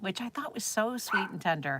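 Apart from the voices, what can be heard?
dogs barking in the background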